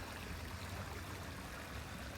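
A continuous soft rush from small streams running among tall lilies and tall grass at a Croatian resort, quiet and distant, with no voices.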